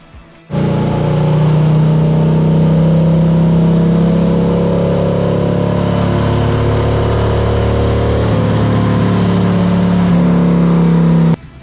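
Motorcycle engine fitted with Wood TW-222 cams and Chromeworks headers runs on a dyno during a Power Vision tune, a loud, sustained close roar held steady for about eleven seconds before cutting off.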